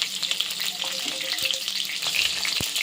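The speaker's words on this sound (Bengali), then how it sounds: "এবার পটলটা লাল লাল করে ভেজে নেব" Pointed gourd (potol) pieces sizzle in a pan, giving a continuous soft crackling hiss with occasional stirring clinks and a sharp tap near the end, no voices.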